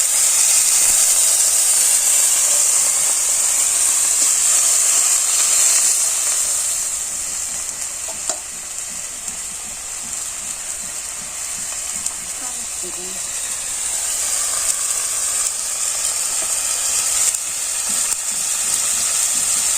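Onion, turmeric and chilli masala fries in a pan in a village kitchen. A loud, steady hissing sizzle runs the whole time, easing slightly midway, with a voice talking faintly underneath.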